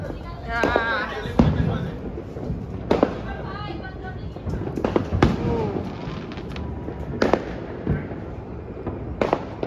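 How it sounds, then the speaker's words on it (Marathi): New Year's Eve fireworks crack and pop in scattered sharp bursts, some loud and near, others distant, with voices talking and cheering underneath at a home party. "इकडं सुरुवात झालेली आहे मस्त पैकी फटाके वाजायला"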